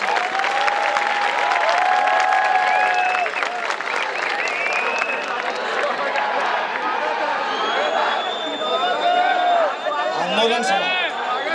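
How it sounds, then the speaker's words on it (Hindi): Loud, sustained applause from a large audience at a Hindi veer ras poetry recital (kavi sammelan), with whoops and crowd noise running throughout under steady clapping. "जोरदार तालियां एक बार आनी चाहिए"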